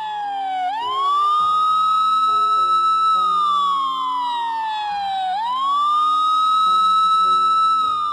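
A loud emergency siren wails in long rising and falling sweeps, repeating twice, close by with no voices.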